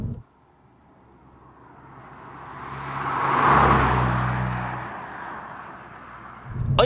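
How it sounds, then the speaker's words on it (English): Road noise inside a VW Golf GTI Mk7.5 riding on 19-inch rims: a steady low rumble and tire roar swell gradually to a peak midway, then ease off, with no talk over it. "This one has the optional 19-inch rims on it, but even so, road noise isn't too bad."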